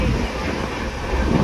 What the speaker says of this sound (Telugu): 12714 Satavahana super fast express bye bye చెప్తూ వరంగల్ రైల్వే